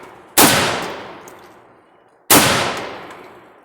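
An AR rifle fires two loud, sharp shots at a target outdoors, spaced about two seconds apart, each followed by a long decaying echo, with no talking.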